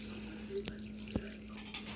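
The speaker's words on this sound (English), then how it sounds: "pour enough water to cover all of the spaghetti" Water is poured into a pot over fried spaghetti with bay leaves. It makes a quiet, continuous trickle with a few sharp clinks and splashes and a faint steady hum underneath.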